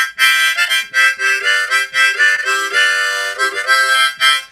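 A harmonica plays chords with several reeds sounding at once, in short breathy bursts that change pitch and rhythm, loud and close with no voices.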